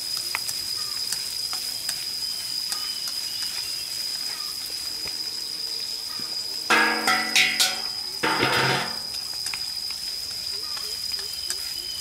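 Stink bugs deep-fry in hot fat, giving a steady crackling sizzle throughout, with a louder burst of bubbling and spitting midway, maybe from stirring, before settling back to the constant fry.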